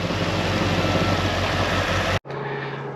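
A Mitsubishi Evo track car engine idles steadily with a low, even hum, then cuts out abruptly, leaving a quieter lingering drone.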